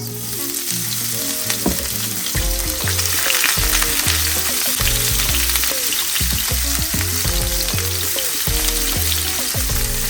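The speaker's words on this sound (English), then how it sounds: "On the same pan we used to fry the sausages, with the same oil, I'm going to add my onions." Chopped onions fry in leftover sausage oil in a pan with a loud, steady sizzle that lasts throughout. A tonal, musical layer runs beneath it.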